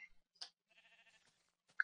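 A faint sheep bleat in a video game, one short wavering call amid scattered small clicks and quiet gaps.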